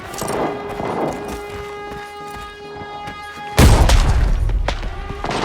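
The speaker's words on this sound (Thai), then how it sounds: "ปาระเบิดไล่ไปเลยนะครับ" A sudden loud grenade explosion booms in the game Arena Breakout after a steady tonal hum, the blast rumbling and fading with debris noise.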